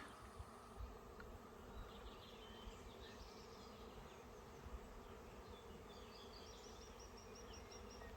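Swarm of bees at an Italian farmhouse: a faint, steady, high humming buzz from many insects, continuous throughout and heard from a short distance.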